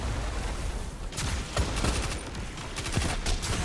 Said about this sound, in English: Let me throw my space magic grenade right here.